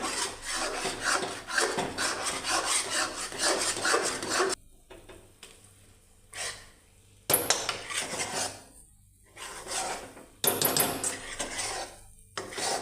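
Khoya mawa for barfi is stirred in a kadai, producing loud, gritty scraping against the metal pan in rapid bursts that break off into brief pauses and then resume, close up and without speech.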